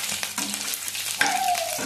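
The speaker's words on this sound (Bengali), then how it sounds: "সর্ষের তেল, একটু তেল বেশি করে দেবো, দিয়ে আমি নেড়ে মাছটা শুটকিটা ভেজে নেব" Dried loitta fish frying in mustard oil, a steady broadband sizzle with occasional stirring scrapes, close and fairly loud throughout.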